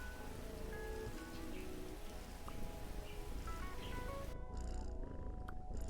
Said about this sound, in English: can you make the freaking rain stop?